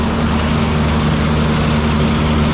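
A tractor engine drives a forage blower in a steady, loud, continuous drone with a low hum and broadband mechanical roar, holding an even level throughout with no talking.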